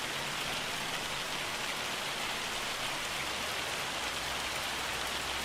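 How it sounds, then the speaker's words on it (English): Steady, dense rain hiss from Farming Simulator 25 weather, a continuous even wash of falling drops with no breaks and no talking. "Get past this rain, because we got sunshine after the rain."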